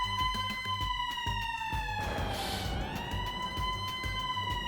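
Ambulance siren in the NHL 21 hockey video game, a loud wailing tone sweeping up and down over a thumping rhythmic game background, with no talk.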